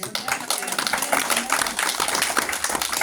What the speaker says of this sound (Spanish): ¿Cuánto le dan un aplauso?